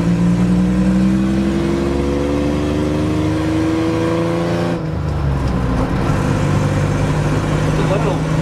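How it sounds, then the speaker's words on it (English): A 1968 Jeep Commando with a Dauntless V6 on mud tires drives at speed, its steady engine drone and tire hum loud and close, with a pitch drop as it shifts midway. "The little Dauntless V6 pulls pretty good."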